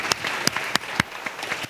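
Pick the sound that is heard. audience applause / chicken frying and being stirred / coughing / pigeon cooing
audience applause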